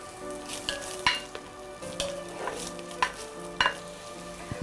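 Chopped ginger and garlic sauté in oil in a pan, a soft steady sizzle broken by sharp clinks and scrapes of a spoon stirring against the metal, close and quiet, with no one speaking.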